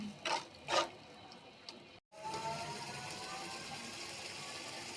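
Water splashes into a sizzling turmeric and chili spice mixture in a pan for fish curry. Two short bursts come before a brief silence, then a steady, fairly quiet hiss continues.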